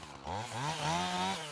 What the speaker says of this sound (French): On finit de tronçonner les dernières sections proprement